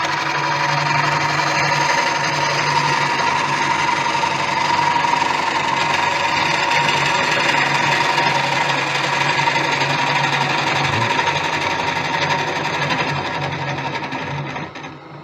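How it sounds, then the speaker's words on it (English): A wood lathe hums steadily at low speed while a gouge hollows out a wooden bowl, a loud continuous drone that fades slightly near the end, with no talking. "you can hollow at low speeds"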